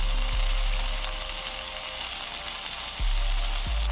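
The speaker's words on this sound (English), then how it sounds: "We're just gonna toss our mushrooms in here. Cook these down real quick." Mushrooms and sliced green onions cook in a pan over a small camping fire for beef short rib ramen, a loud, dense sizzle throughout with a few low thumps of the pan or utensil.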